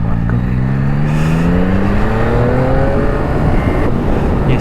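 A 2025 Yamaha MT-09 Y-AMT accelerating hard, holding a single gear as the engine note climbs steadily in pitch, loud and close, with no one talking over it.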